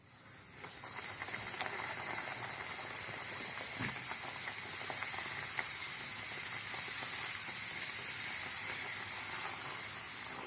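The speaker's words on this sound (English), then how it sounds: "I'm going to take this and fry it in oil" Puris frying in hot oil, a steady bright sizzle that rises sharply as the dough goes in and then holds a continuous crackling hiss, with a faint clink near the start.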